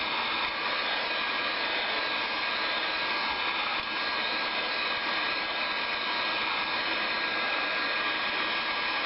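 A heat tool blowing hot air over a small Kydex strap, a steady, close, even whooshing roar that runs unbroken from start to finish with no other sounds or voices.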